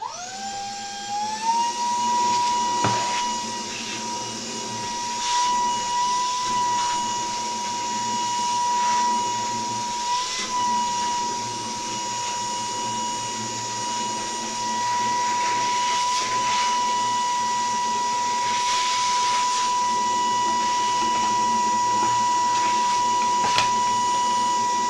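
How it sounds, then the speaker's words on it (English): A vacuum cleaner cleans dust off a CNC-carved wooden printing block. It makes a loud, steady, continuous high-pitched whine that holds for the whole stretch, with faint knocks and shifts as the nozzle moves. "So now let me vacuum this before taking off."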